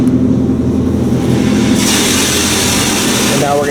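A car engine idles steadily inside an Autec In-Bay Express bay at Sunshine Car Wash in Cordova, Tennessee, a low continuous hum joined by a rising hiss of spray partway through, with faint talk.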